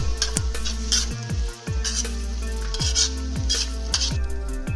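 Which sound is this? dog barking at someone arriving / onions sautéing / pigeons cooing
onions sautéing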